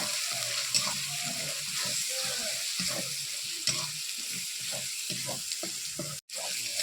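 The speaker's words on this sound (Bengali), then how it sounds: "হলুদ দিলাম 1 চামচ, গোটা শুকনো লঙ্কা দিলাম 1টা, দিয়ে বেশ কিছুক্ষণ মশলাটা কষিয়ে নেব" Turmeric and a whole dried red chilli frying in oil in a pan, with a steady sizzle broken by repeated rhythmic scraping stirs of a spatula, close and fairly loud, no speech.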